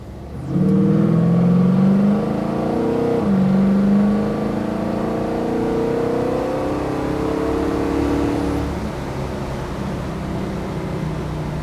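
A 1967 Chevrolet Chevelle SS V8 engine revs up and holds a strong, rising drone, then eases off to a lower steady hum; heard from inside while driving, no voices.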